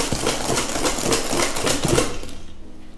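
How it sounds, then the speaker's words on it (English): Eggs whisked by hand for banana bread batter, a fast steady clatter of the whisk in the bowl that runs continuously and stops near the end. "Egg number 5. And just keep on whisking."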